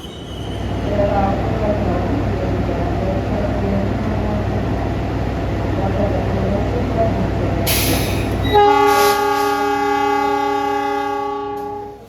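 Two economy passenger trains meet and pass on the line, a heavy continuous rumble of wheels and cars, then a sudden loud rush followed by sustained high-pitched squealing tones as the other train goes by.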